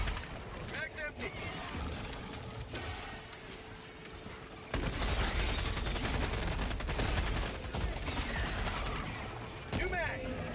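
Dense automatic gunfire and explosions in the Helldivers 2 video game, loud, continuous bursts layered with mechanical clatter, with voices speaking amid the shooting.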